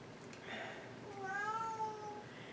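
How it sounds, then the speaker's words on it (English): A pet cat cries indoors with a drawn-out, screaming meow that rises and wavers, preceded by a shorter softer call; faint and fairly close, with no talk. "And if you hear my cat crying"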